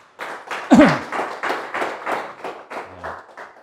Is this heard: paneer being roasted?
no